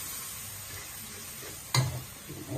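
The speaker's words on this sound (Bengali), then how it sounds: "মশলাটা কষানো হোক।" Spice masala frying in oil in a pan for a home-cooked curry, giving a soft, continuous sizzle broken by one sharp clunk of a spoon near the end.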